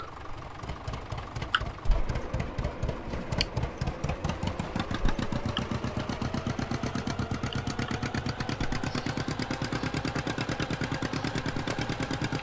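A John Deere tractor engine in a farming video game, a steady rhythmic idling chug that settles into an even pulsing throb, loud and close with no talk.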